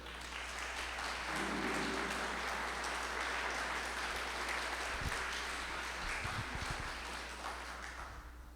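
A crowd at a conference claps steadily in sustained applause that gradually fades out at the end.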